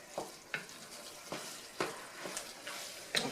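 A barbecue sloppy joe mixture bubbles and sizzles softly in a pan while a spoon scrapes and stirs it in several quick, separate strokes.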